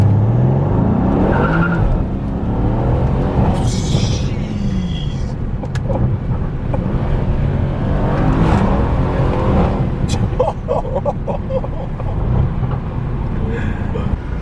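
A Mercedes-AMG car on its stock exhaust accelerates hard with a rising engine roar, squealing tires and gear changes, loud and close, with occasional voices in the background.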